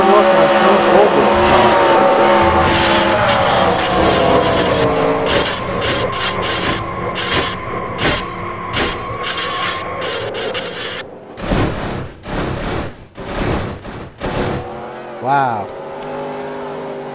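In a NASCAR racing video game at Michigan, a race car spins out: loud, steady engine roar gives way to choppy revving and tire noise, with a commentator talking over it.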